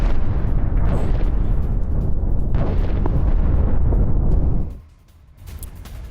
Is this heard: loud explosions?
yes